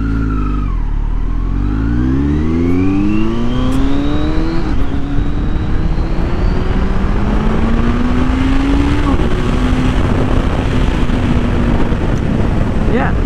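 A 2020 Kawasaki Z900 motorcycle revs and accelerates through its gears while being ridden, the pitch sweeping up and dropping at each shift, with wind buffeting the microphone the whole way.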